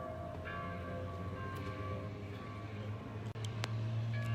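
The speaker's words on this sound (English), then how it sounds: "the bells are going off" Church bells ring steadily from a bell tower in Assisi at a distance, their sustained tones layered over a dense, constant outdoor background.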